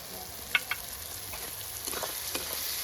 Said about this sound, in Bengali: মশলাগুলোকে দিয়ে খুব ভালোভাবে একটু কষিয়ে নেব